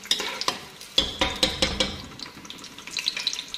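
Onions frying in hot oil for chicken biryani are stirred with a utensil, giving a run of sharp scraping clatters over a soft, steady sizzle, with no voices.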